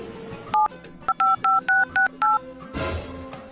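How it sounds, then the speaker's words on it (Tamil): Phone keypad dialing tones, seven short beeps in an irregular run as a number is dialled to call someone's mother, followed by a brief rustle. "எங்க அம்மா கால் பண்றேன்"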